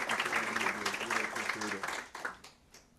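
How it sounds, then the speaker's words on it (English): Applause fills a public school board meeting as an honoree is named, brisk clapping from the audience heard partly under a voice on the loudspeaker, fading toward the end. "Big round of applause"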